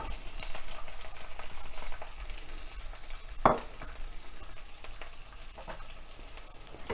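Green chili and chopped onion fry in hot oil with panchphoron for a fish head and cabbage curry, giving a steady moderate sizzle with a sharp spoon clack near the middle and occasional stirring scrapes.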